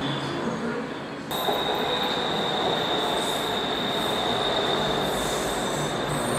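A train rolling on rails toward Chatuchak in Bangkok, a loud continuous roar with a steady high wheel squeal throughout, close and unbroken.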